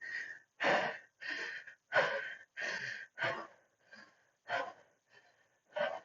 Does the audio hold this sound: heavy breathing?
yes